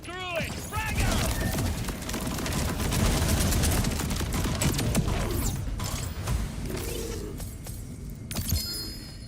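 Grenade blasts and gunfire in the shooter game Borderlands, a dense stretch of crackling shots, bursts and shattering impacts layered over a continuous rumble, with brief game sounds at the edges.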